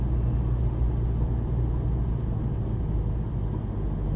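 A Porsche GT3 runs on the Las Vegas Motor Speedway, its engine a steady, loud, close rumble with a constant low drone and no breaks.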